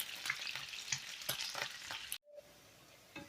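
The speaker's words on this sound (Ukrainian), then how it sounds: "цибулька у мене вже потушилась" Onion stews and sizzles in a pan for soup, a soft steady crackle up close that cuts off abruptly near the end, with no talk.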